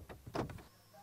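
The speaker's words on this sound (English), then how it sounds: "I'm going to lock the doors." Power door locks on a Toyota car actuate in a quick burst of several muffled mechanical thunks and clunks close by, then fall quiet in a still cabin.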